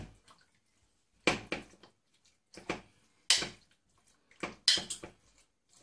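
Several short wet squelching and scraping bursts, spaced irregularly with quiet gaps, as chicken with turmeric is gently stirred with water in a pan, close by.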